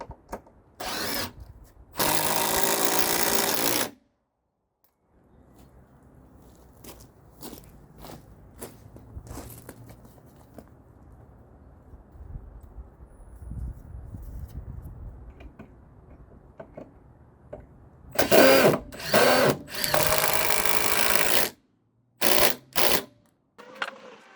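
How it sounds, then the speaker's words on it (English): A power drill drives screws into the wooden ends of a DIY raised garden bed, with two loud whirring bursts near the start and two more near the end, separated by quiet handling and tapping. "I'm going to screw in the two ends, the two end screws"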